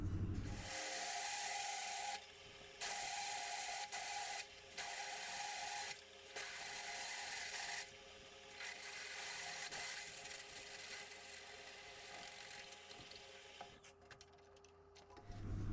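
A faint drill bores a hole in a hydraulic cylinder with a steady mechanical whine broken by several scraping, grinding cutting bursts, then a few clatters at the end.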